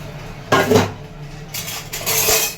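Dishes, pots and pans clatter close by in a household kitchen, with a sharp burst of clanking followed by several smaller knocks and a second run of metallic rattling.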